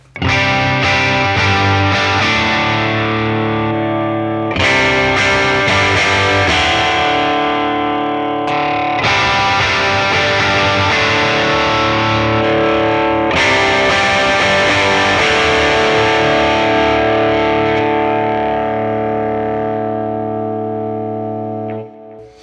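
An electric guitar through a King of Tone overdrive pedal into a modeled Deluxe Reverb amp plays sustained chords with a warm, gritty crunch, the notes ringing out and changing every few seconds.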